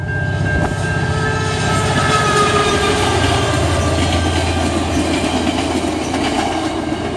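Via Rail train #87 led by an F40 locomotive in Canada 150 wrap passes close by at Mount Pleasant, a loud sustained rumble with rhythmic wheel clatter, a brief horn-like tone early on and faint squeal.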